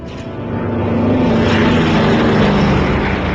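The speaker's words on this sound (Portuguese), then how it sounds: "Tibbets executou uma manobra para salvar o Enola Gay, um giro de 155 graus." A World War II B-29 bomber, the Enola Gay, executing a sharp 155-degree turn, its propeller engines droning as a loud, steady broadband roar that swells in the first half second and then holds constant throughout.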